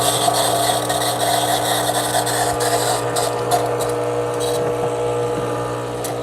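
An espresso machine's steam wand hisses in a steady, loud, broadband rush throughout, close by, with faint sputtering variation and no talk.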